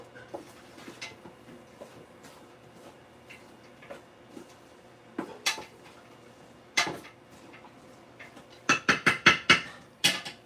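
Utensil scraping and clinking against a pot while onions are stirred in butter and olive oil, soft scattered scrapes building to a quick run of sharp, close clanks near the end, with no talking.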